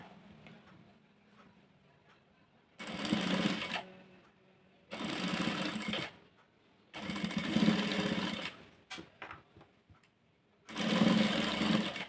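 A sewing machine stitches thread piping onto a blouse neckline in four distinct bursts of fast, rattling stitching, close and loud, with quiet gaps between them, a couple of very short taps, and faint room noise in the pauses.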